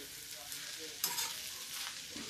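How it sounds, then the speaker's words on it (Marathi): Cabbage being stir-fried in a pan for a cabbage and tomato vegetable dish, giving a steady close sizzle with scraping stirs and one sharper clatter midway, no talking. "कोबी भाजून परतून घेऊया आणि मग तुमच्याशी बोलतो."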